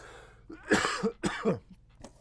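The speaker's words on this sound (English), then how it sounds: "I'm getting a cough." Several rough, close coughs and throat-clearing bursts come in quick succession with short breaths between them.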